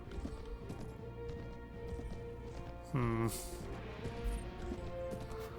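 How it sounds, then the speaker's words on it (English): A horse gallops in Mount and Blade Warband with the Prophesy of Pendor mod, its hoofbeats a steady clip-clop under battlefield ambience, broken midway by a short, bright whinny-like cry. "This horse feels very slow as well."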